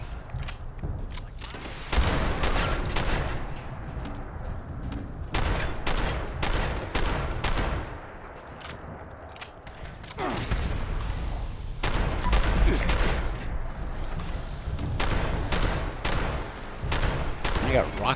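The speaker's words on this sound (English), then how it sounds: "I got rockets being shot off my wazoo while I'm trying to fight these guys." Rockets and gunfire in the video game Fallout 76, fired during a fight: dense, loud volleys of blasts and bursts that come in waves with brief lulls between them.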